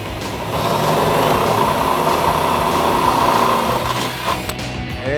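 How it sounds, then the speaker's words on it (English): A drill bores out a fender flare mounting hole on a Jeep Wrangler JK for a nutsert, a loud, close, steady whine lasting about four seconds before tailing off with a few light knocks, no one speaking. "And then the last one we're going to drill out for a nutsert is going to be this one"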